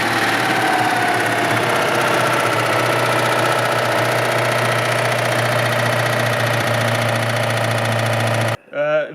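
A Citroën 2CV engine runs close by at a steady idle, a busy buzzing drone with a rattling, sewing-machine-like texture, before cutting off near the end as a voice begins speaking.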